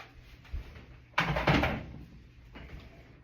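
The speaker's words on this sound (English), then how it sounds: "roll them back, and then you can remove the front panel" Front panel of a Samsung WF350ANW/XAA front-loading washer being pulled off, giving a sharp hard clunk followed by a second of rattling metal-and-plastic scraping, with a softer knock near the end, close up and with no talking.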